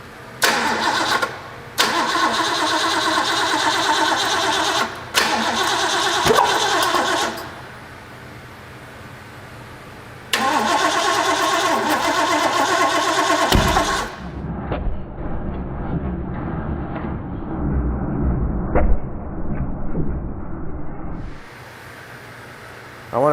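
A rebuilt car engine from an old vehicle restoration cranks without fuel in loud, close bursts of starter churning separated by pauses, followed by quieter rattling and handling noises.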